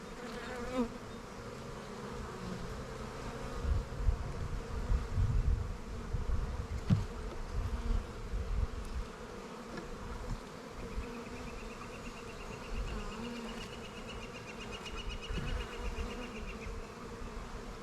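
Honeybees from a small colony in an opened hive hum in a dense, continuous drone, with individual bees buzzing past close by and a few soft handling knocks.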